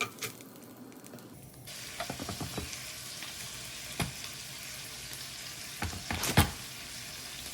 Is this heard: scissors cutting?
no